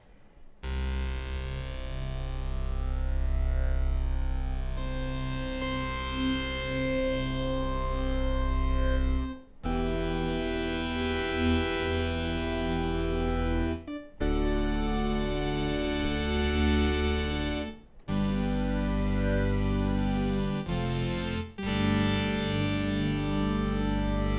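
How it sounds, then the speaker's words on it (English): Dense synthesizer chords with a sweeping, jet-like flanger whoosh rising and falling through the tone, broken by a few short gaps between phrases. "And the flanger sounds like this."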